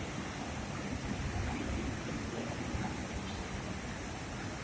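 A waterfall feature in front of Siam Paragon in Bangkok gives off a steady, dense wash of falling water at moderate level, constant throughout with no talk.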